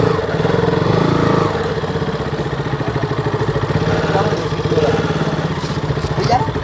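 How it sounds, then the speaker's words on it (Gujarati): A motorcycle engine runs steadily up close at a temple parking area, with a rhythmic low idle throb and mild variations throughout. "તો ફાઇનલી આપણે પાર્કિંગ કરી નાખીએ બાઇક"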